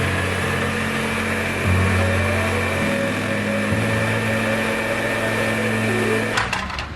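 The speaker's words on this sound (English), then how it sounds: "I'm just gonna use the Rockwell upside down jigsaw to do that" A Rockwell upside-down jigsaw cuts a traced circle from a starter hole, a steady high buzzing motor with a shifting pitch running loud and close throughout, then stopping abruptly near the end.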